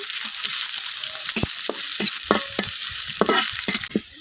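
Chopped onions frying in hot oil in a karai wok, cooked as a base for leafy greens: a steady, close, bright sizzle broken by a series of sharp spatula knocks and scrapes against the pan, with no voices.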